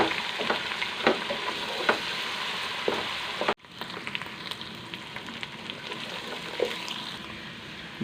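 Ginger garlic paste sizzles and fries in a pan for rice pulao, with steady crackling broken by scraping stirs; a brief pause midway, then the frying resumes close and loud.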